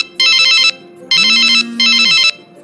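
A telephone rings with an incoming call: three loud electronic trill bursts separated by short gaps, close and clear, with a low tone sounding during the middle ring.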